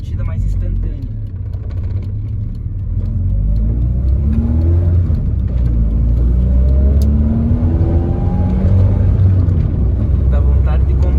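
A Volkswagen Passat 1.6 engine with a Weber 450 carburetor turns over and catches, then runs with a steady, deep idle that swells slightly louder as it settles, with voices talking over it.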